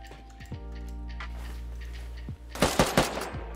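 Gunfire in the survival video game Rust: a steady hum, then a few single shots followed by a louder rapid burst of shots near the end.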